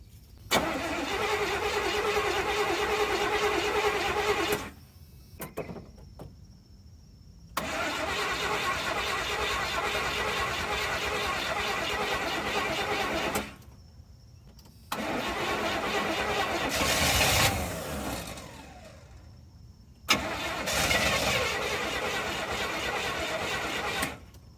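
A 1986 square body K10 truck engine with a choke problem cranks and fires several times, running in loud idling bursts that cut out into near silence between restarts before settling into a steady warm-up idle.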